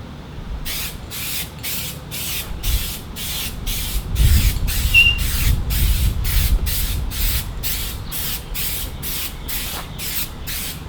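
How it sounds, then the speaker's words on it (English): Spray paint hisses onto the underside of a Mazdaspeed3 in a long series of short, evenly spaced bursts, close and fairly loud, with a faint low rumble in the background. "We're gonna spray a couple and let it dry."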